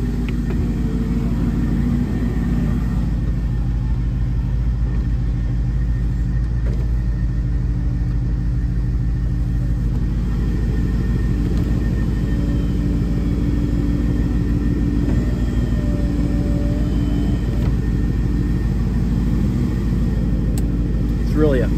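A 1976 Cadillac Sedan DeVille four-door hardtop idles with its engine running, a deep, steady low rumble that holds evenly for about twenty seconds, heard close by.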